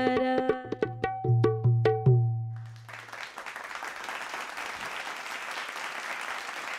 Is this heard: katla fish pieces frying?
no